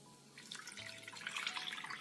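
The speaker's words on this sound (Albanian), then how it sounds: "Tani vazhdojmë që në tenxhere ta shtojmë ujin." Water being poured into a cooking pot of beef while preparing a tender meat dish, a steady splashing trickle building slightly louder as the pot fills, with no talking.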